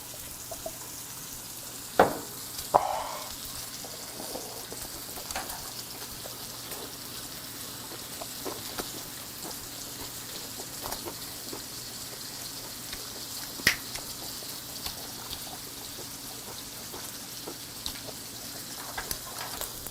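Pork belly sizzles steadily on a grill, a continuous hiss with occasional small pops and crackles, moderately close, with no talking over it.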